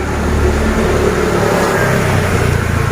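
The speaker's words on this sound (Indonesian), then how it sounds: "sebenarnya ada suara motor" A motor vehicle engine hums steadily and fairly loud throughout, with a low rumble that swells slightly as if passing nearby.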